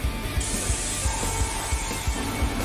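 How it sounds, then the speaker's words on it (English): Airbrush or spray can misting Agrax Earth Shade wash onto the inside of an MDF model: a steady close hiss that starts about half a second in and runs throughout, with faint handling knocks and taps beneath it. "I'm going to spray this Agrax Earth Shade in there."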